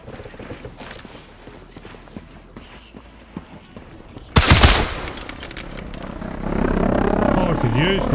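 Submachine gun fire in the shooter game Sniper Elite Resistance: a sudden loud burst after a stretch of quieter game sound, followed by a rising drone of in-game noise, with a voice talking in the background.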